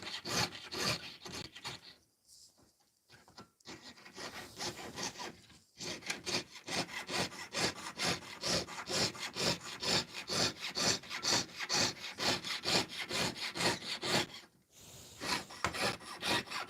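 A hand saw blade strokes steadily through metal in long, even back-and-forth passes, loud and close, with a couple of brief pauses before the rhythmic rasping resumes.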